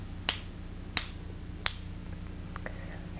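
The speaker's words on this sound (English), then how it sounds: "Now, when I snap my fingers three times, you go into this state, which is called the coma." A hypnotist snaps his fingers three times, sharp, crisp clicks evenly spaced about two-thirds of a second apart over a faint room hum, with a couple of softer ticks afterward.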